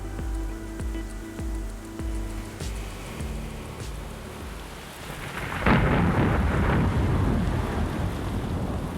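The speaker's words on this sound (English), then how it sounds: "That all changes with an onslaught of bad weather. Days and days of bad weather. The rain is torrential." Thunderstorm with torrential rain over the Pacific: steady heavy rain hiss with low rolling thunder rumbles, swelling to a louder, denser downpour partway through.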